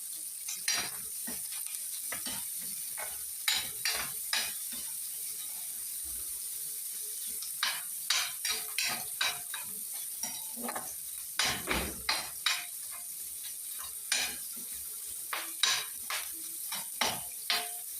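Garlic sizzles in hot pork fat in a pan, a constant hiss broken by repeated scraping taps of a utensil stirring and knocking against the metal, close and unaccompanied by speech.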